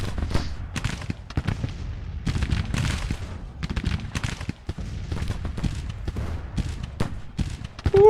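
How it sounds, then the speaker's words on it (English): Dense, rolling booms and crackling volleys of artillery and musket fire across a Civil War battlefield near Memphis in the strategy game Grand Tactician, continuous irregular thumps at mid distance without a break. "They're getting nailed by artillery too"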